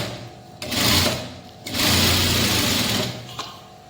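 A sewing machine stitches piping onto a garment lining in two loud runs of steady rapid whirring, with short pauses between them and no voices.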